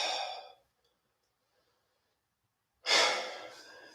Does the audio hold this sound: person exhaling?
yes